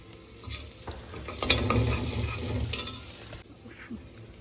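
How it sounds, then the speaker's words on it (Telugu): Turmeric added to hot oil in a pan for paya (mutton trotter) curry, giving a steady close sizzle and stirring that rises louder in the middle, then settles back to a softer fry. "ఇప్పుడు పసుపు వేస్తున్నాను."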